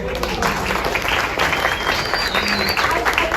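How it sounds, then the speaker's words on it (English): An audience at an annual chapter meeting applauds, a dense, steady burst of many hands clapping together in a room throughout. "Do you think we, as a chapter, deserve a round of applause?"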